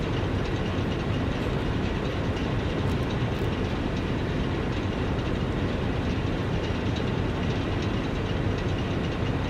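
Continuous rail rumble from trains running in the game Satisfactory, a broad steady roar with a soft rhythmic clatter, holding at the same loud level for the whole stretch.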